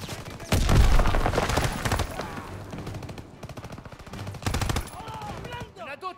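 Bursts of rapid gunfire ring out in a Call of Duty WW2 battle, loud machine-gun rattles and volleys clustered in two main salvos with shorter shots between, fading toward the end.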